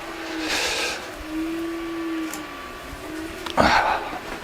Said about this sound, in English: I apologize for the noise in the background. I'm currently printing face shields.